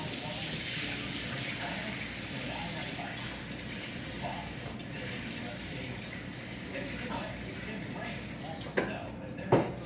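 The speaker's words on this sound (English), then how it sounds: "I'm gonna pour this water out and rinse" Water poured out while rinsing chicken for homemade chicken soup, a continuous splashing gush running for several seconds, ending with a couple of sharp knocks near the close.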